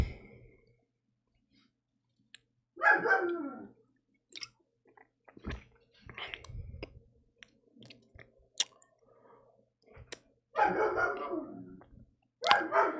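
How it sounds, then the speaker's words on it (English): Household dogs playing with children give scattered, intermittent barks, a few separate bursts spread across the clip with soft clicks and thumps between them in a quiet room. "If you hear my dogs barking"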